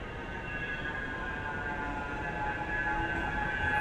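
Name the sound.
tram approaching along Balloon Street, Manchester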